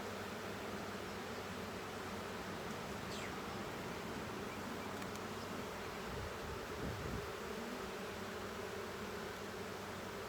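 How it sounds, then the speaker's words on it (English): Honeybees swarming around an open hive during an inspection, a dense, continuous buzzing hum that stays faint and even, with one or two individual bees passing nearer. "I've never seen this many bees on this hive."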